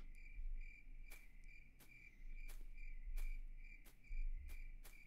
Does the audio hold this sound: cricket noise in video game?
yes